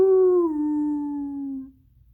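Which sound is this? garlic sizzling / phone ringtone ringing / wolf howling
wolf howling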